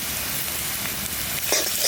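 Ginger and garlic frying in a pan with chilli and chopped onion, a dense, continuous crackling sizzle held close and loud for a brief moment.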